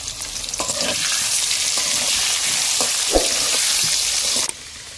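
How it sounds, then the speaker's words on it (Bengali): Salted, turmeric-coated potatoes frying in oil in a kadai for biryani, a loud continuous crackling sizzle with scattered stirring scrapes, cutting off abruptly near the end. "এবার কড়ার মধ্যে তেল দিয়ে দিচ্ছি, আলু ভেজে নেবো"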